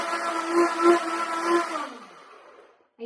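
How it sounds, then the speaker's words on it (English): A blender mixes a turmeric drink with a loud, steady whirring hum up close that runs for about two seconds, then winds down and stops. "go ahead and turn your blender on and mix it up"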